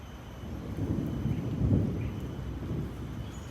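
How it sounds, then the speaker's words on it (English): Distant thunder rumbles low and rolls in over a few seconds, swelling to a soft peak midway before easing off, faint and far away with a light hiss of rain or ambience behind it. "And you can hear the thunder is coming in."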